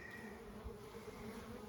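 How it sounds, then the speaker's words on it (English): A dense, steady buzzing of many wild desert bees swarming close around a container hive, a continuous droning hum with no voices. "There's so many bees on this container."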